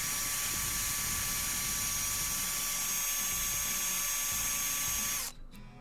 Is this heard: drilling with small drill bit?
yes